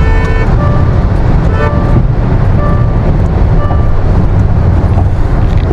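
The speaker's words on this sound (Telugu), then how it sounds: "ఓకే, నేను బండి స్లో చేస్తున్నాను." A Kia Syros turbo petrol car slowing down from high speed gives a loud, steady rush of road and wind noise with engine drone inside the cabin, with no talk.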